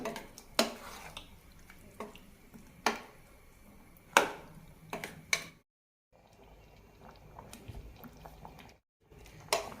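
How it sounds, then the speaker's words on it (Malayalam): Thick thiruvathira puzhukku boils in a pot, with scattered heavy bubbling plops and wet splutters at an uneven pace, close and without talk, with brief silent gaps. "നന്നായി തിളച്ചിട്ടുണ്ട്"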